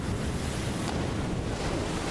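Open-sea ambience in the video game Suicide Guy: Sleepin' Deeply, a steady loud rush of waves and wind with no break and no voices.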